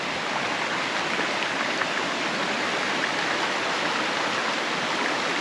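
Emerald Creek runs near the falls in the Atherton Tablelands, a steady, close rush of flowing water that holds even and unbroken throughout, with no voices over it.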